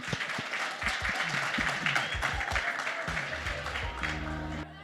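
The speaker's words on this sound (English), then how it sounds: "A round of applause for Fezile Dhlamini." An audience breaks into steady applause for a presenter at a technology event, dense clapping filling the room before tapering off at the end, with a few voices faintly mixed in.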